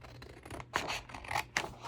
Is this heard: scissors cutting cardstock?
yes